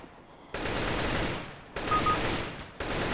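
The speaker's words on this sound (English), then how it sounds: "He knows how to shoot with a gun." Gunfire in the shooter game CS:GO, with bursts of rapid automatic shots starting in three separate surges over a few seconds, moderately loud, and no talk.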